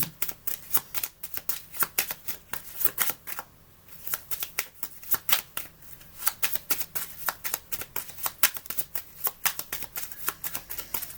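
Oracle cards shuffled steadily by hand, a dense run of crisp riffling flicks close up with one brief pause, continuous and fairly loud, no voices.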